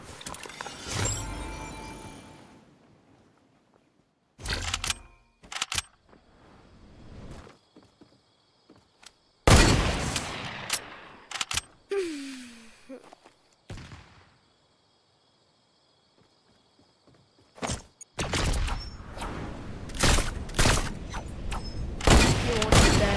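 Gunfire in the video game Fortnite: scattered sharp bursts and single booming shots separated by quiet gaps, loud and close, with some game mechanism noise and brief talk.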